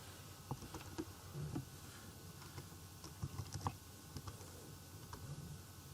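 Light, irregular keystrokes on a computer keyboard while coding in Python, a soft steady patter of clicks with a few sharper taps, faint and close, no voice.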